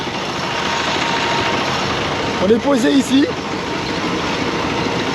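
A tractor pulls a trailer carrying riders near Arugam Bay, Sri Lanka, its engine giving a steady, loud droning rumble heard from on board, with someone briefly speaking over it midway.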